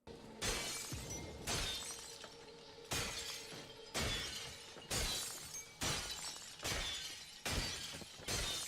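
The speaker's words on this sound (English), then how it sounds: "Car windows would make breaking sounds when you hit them, even though the window doesn't break at all." Car window glass shattering in a video game, about nine sharp crashing bursts, one roughly every second, each a loud close smash trailing into tinkling shards, with nothing else heard.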